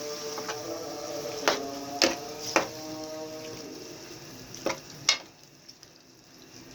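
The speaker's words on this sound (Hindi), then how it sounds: "ये देखिए अब मसाले जो ना मैं मिक्स कर रही हूँ।" Spices being stirred into a yogurt keema in a pan, with a low frying sizzle beneath several sharp metallic taps and scrapes of the spoon at irregular intervals.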